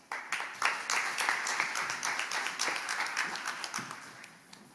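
An audience applauds at a blockchain launch event in Seoul as a guest speaker is welcomed, a steady wash of moderate clapping with a few sharper claps that gradually fades toward the end.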